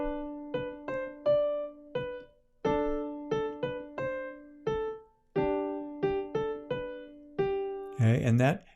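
A piano plays a rhythm exercise mixing quarter, eighth and half notes, a close, clear sequence of single notes and short repeated figures with small gaps between phrases, ending in a brief burst of talking.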